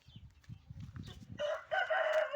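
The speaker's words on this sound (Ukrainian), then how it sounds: "Іду показувати курей." Hens cluck softly and repeatedly, then a rooster bursts into a loud, close crow that runs to the end.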